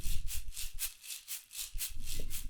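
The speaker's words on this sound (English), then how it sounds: "A percussion shaker loop." Percussion shaker loop from a sample library, used for country-style drum production: a steady rhythmic pattern of bright, hissy shakes, about two or three per second, over a low rumbling bed.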